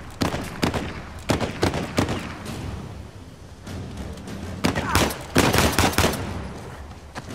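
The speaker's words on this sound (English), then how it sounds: "we've got a little bit of ammo with our pistol here that we're going to attempt to use to take out that freaking sniper" Pistol shots fired at a sniper in Uncharted 4, with sharp bursts of gunfire scattered across the stretch, some shots single and others in quick clusters, loud and close over a rumbling backdrop.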